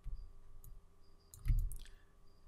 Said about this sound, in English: I'm going to double click on this.